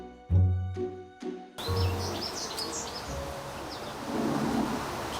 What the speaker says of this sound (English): Can you hear the birds? They're peeping away because they don't like me being here.